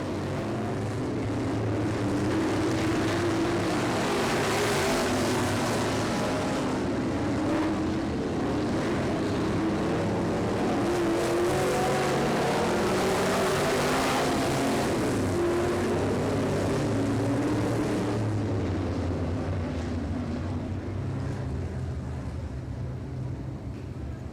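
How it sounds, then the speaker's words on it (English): B-Mod race cars lapping a dirt track in a 10-lap heat race: a continuous loud roar of engines, steady and droning throughout, with no clear talk over it. "That is a new track record in a 10-lap B-Mod race."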